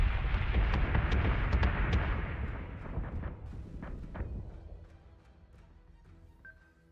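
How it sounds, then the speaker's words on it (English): A starship takes fire in a Battlestar space combat game, with dense, booming explosions and impacts that rumble together at first and then thin out into scattered distant blasts. "Battlestar is taking damage. Manticore is taking damage. Janice is taking damage. We're taking fire."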